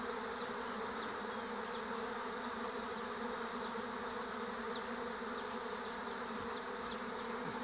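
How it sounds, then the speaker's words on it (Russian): A swarm of honeybees flies around a tree, a dense, steady, continuous buzzing of many bees filling the air with no talk. "Еще много пчелок летает возле дерева."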